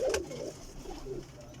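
Pigeons kept in a loft, cooing in soft low murmurs close by, a brief faint burst of coos with no voices.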